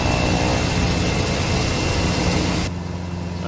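The engine of a Chinook helicopter, heard from outside in Microsoft Flight Simulator 2020, gives a loud, dense, continuous roar with a low throb. It drops abruptly to a quieter level near the end, with no voices.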